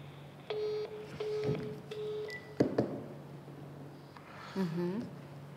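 Telephone dialing on a live call-in broadcast, a series of steady keypad tones and beeps with short gaps, followed by a few clicks and a brief warbling ring signal, moderately quiet against a faint background hum.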